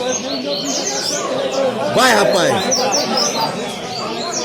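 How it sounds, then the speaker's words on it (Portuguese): Small birds chirping and tweeting in quick bursts, mixed with someone talking over them nearby. "Tô filmando passarinho pra ele."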